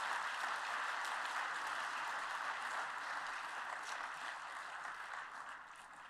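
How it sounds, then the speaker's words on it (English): Sustained applause from a conference audience for a drafting team at the IUCN Africa Protected Areas Congress, a steady wash of many hands clapping that slowly tapers off. "Let us give a good round of applause to the entire drafting team."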